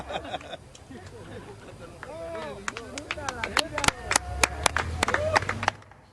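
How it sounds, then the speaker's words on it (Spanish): People on a beach in Oaxaca clap for someone who has just dived into the sea, a burst of scattered claps mixed with excited voices and cheering. "Y las 10 personas que estaban ahí, pues le aplaudieron."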